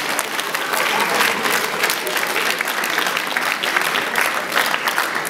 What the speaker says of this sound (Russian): Чувствуется, что все вы восторженно аплодируете